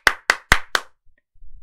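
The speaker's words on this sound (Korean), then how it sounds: "자 힘차게 박수치면서 시작했습니다" Four sharp, evenly spaced hand claps ring out in quick succession at the start of a morning stock-market livestream, then fall silent with only a faint low rustle after.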